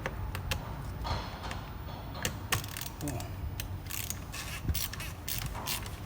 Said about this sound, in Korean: 자 이제 오일을 드레인 해야 되는데 드레인 볼트는 10mm 육각이에요